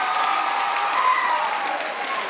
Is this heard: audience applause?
yes